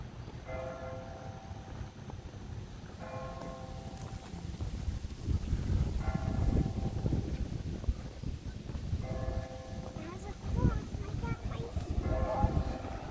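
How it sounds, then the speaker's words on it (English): A bell chimes noon in Vincennes, Indiana, ringing out in slow, evenly spaced strikes over heavy wind rumble and outdoor noise, tolling twelve times at a steady pace. "So it's noon, so listen guys, it's going to chime 12 times."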